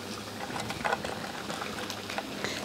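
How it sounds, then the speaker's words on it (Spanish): Mini taquitos frying gently in shallow oil over low heat, giving a soft, steady bubbling crackle with scattered small pops, fairly faint and continuous with no talking. "Aquí se van a dorar poco a poquito para que queden bien y no se vayan a quemar con poca lumbre."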